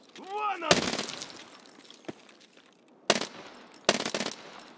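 Uzi Pro pistol firing in an online shooter: after a short rising electronic whoop, a dense rapid burst rings out, then a faint single crack and two more sharp short bursts, loud and close.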